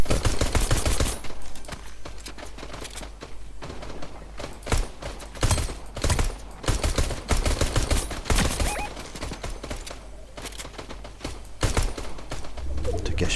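Pistol gunfire in Fortnite, rapid sharp shots in irregular bursts, loud and close, amid game effects with someone talking over the action.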